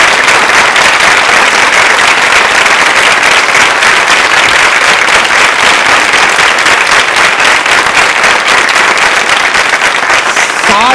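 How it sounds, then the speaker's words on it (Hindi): A large audience at a polytechnic quiz show anniversary event applauds loudly and continuously for about eleven seconds, dense clapping filling the space without pause. "उनके सम्मान में बजाइए तालियां एक बार जबरदस्त तरीके से"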